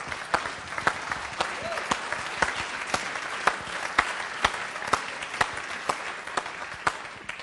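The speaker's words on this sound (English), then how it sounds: "Give yourself a round of applause." Applause at a healing-themed seminar comes as sharp, evenly spaced claps in a steady rhythm, roughly two per second, over a low murmur of room noise.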